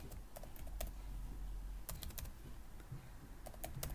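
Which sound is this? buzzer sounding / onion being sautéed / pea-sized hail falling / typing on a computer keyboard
typing on a computer keyboard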